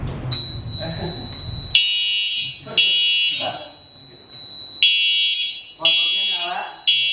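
Fire alarm system sounding during a deluge system demonstration, a steady high electronic tone repeating in bursts with pauses, loud and close, with people talking over and between the bursts.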